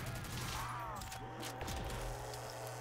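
The Ripper gun fires continuously at zombies in a Call of Duty custom zombies map, a dense, steady rattle of rapid shots with mechanical clanks and game effects layered throughout, loud and unbroken.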